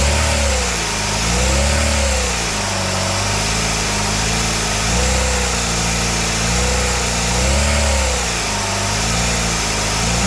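Car engine with an oil seal leak, revved repeatedly to around 2,000 rpm, the loud close engine note rising and falling in several smooth swells, with no voices over it.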